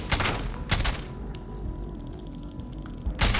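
Gunfire in the game Starfield: a few loud rapid bursts at the start and again at the end, with a quieter humming gap between, no talk.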